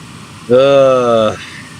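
A steady, tonal hum from the engine of a light aircraft in flight at about 140 to 150 knots swells up loudly for under a second and then fades back into the low cabin rumble.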